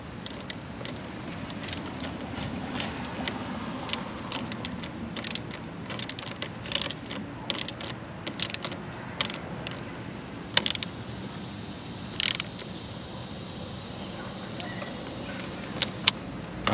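Socket ratchet tightening the battery terminal on a Ford F-150, a run of quick, light mechanical clicks and ticks scattered over a low steady background hum, close and moderately quiet.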